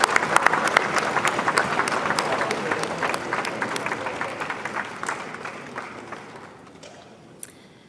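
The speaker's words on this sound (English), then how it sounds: "another round of applause for Karen and Andrea, our newest MPPs." An audience at a political party leadership election event applauds new members of the provincial parliament: dense, loud clapping from a large crowd that gradually thins and fades toward the end, leaving a few scattered claps.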